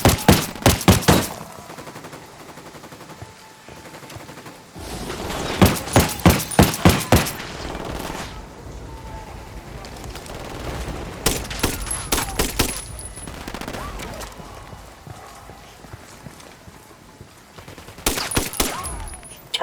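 Gunfire in Ghost Recon Wildlands, with repeated clusters of rapid rifle shots in several volleys spread across the clip and quieter ambient stretches in between.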